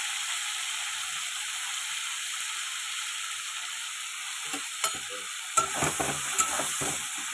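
Vegetables frying in hot oil with bay leaf and panch phoron give a steady bright hiss throughout, with a few clicks and spoon knocks toward the end.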